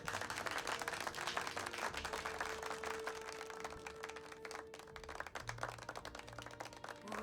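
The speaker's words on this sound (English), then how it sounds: "he's clapping, though." A Mass Effect Andromeda character clapping, heard as continuous, crowd-like applause at moderate distance with a sustained tone and some low rumble beneath it.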